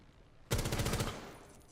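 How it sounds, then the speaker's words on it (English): A sudden burst of rapid automatic gunfire in the video game Rainbow Six Siege starts abruptly, loud and close, then trails off into a fading echo. "So that gunfire gave away my position."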